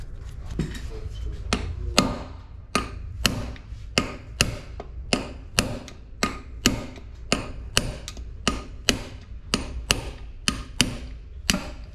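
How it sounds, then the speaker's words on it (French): Hammer blows drive a bearing into a Bosch Gen 2 e-bike motor casing, a series of sharp metallic strikes at a steady rhythm of roughly two per second, close and clear with a little background murmur. "Parce que là je vais frapper mon roulement"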